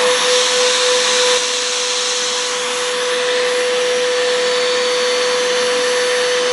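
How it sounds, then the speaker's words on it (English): A vacuum cleaner runs steadily, used to clean out a clogged Shark Multi-Task stick vacuum with no suction, a loud continuous motor whine and airy rush with a slight drop in pitch partway through. "It's using one vacuum to clean another one here now."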